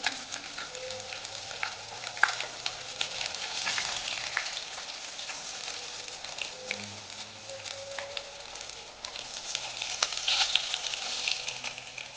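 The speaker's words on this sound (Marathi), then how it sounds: "लो फ्लेमवरती भाजून घ्यायचं" Stuffed fish shallow-frying in oil over a low flame gives a steady, close sizzle with crackles and small pops throughout, and no talking over it.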